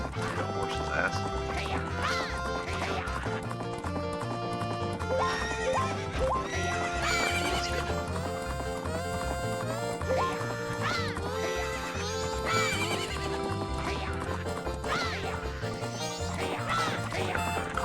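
Horse sounds from The Legend of Zelda: Majora's Mask, likely including neighing, rise over continuous game music and effects, a busy dense mix that stays loud for the whole stretch.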